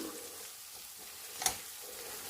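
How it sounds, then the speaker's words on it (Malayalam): Chicken tikka masala being stirred in a pan, a soft continuous sizzle with light scraping and one sharp clink of the spoon against the pan near the end. "ഇനി ഒന്ന് നന്നായിട്ടൊന്ന് അതിനെ ഒന്ന് ഇളക്കുക"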